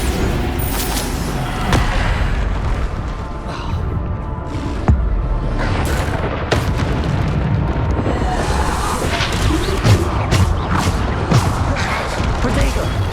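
Bombarda spell explosions in Hogwarts Legacy come as loud booming blasts and crashes within dense, continuous game combat noise, with occasional voices mixed in.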